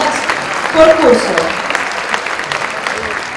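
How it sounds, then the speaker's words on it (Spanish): Applause at a school graduation ceremony for a best grade average award, a steady patter of clapping with voices briefly rising over it early on, fairly loud and close. "Le brindamos nuevamente un fuerte aplauso al premio al mejor promedio de notas por curso."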